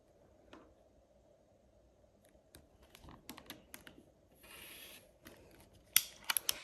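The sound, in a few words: cutting a 5-inch fabric piece in half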